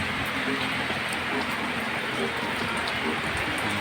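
Heavy rain pours steadily during a flood, a dense, continuous hiss of drops hitting the ground with no letup across the whole stretch.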